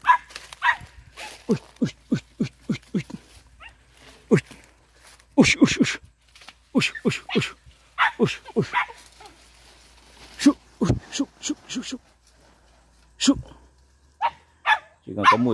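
Hunting dog puppies of a local breed bark in quick bursts and whimper, sharp yips repeating in clusters close by, with adult speech mixed in between the barks.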